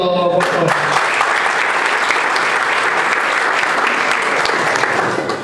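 Audience applause at a documentary premiere held at the Racing Club headquarters in Villa del Parque, a dense, steady burst of many hands clapping that fills the room, with a short voice at the start before it settles into even, sustained clapping.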